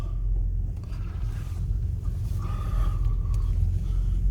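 A 2013 Nissan Xterra with a V6 and four-wheel drive idles with a steady, close, low rumble that stays even throughout, with no voices.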